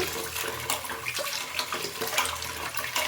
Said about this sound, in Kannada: ಇವಾಗ ಇದನ್ನು ಕೂಡ ಅಕ್ಕಿ ಎಲ್ಲನೂ ಸೇರಿಸಿ ಒಂದ್ಸಲ ತೊಳ್ಕೊಳ್ಳೋಣ.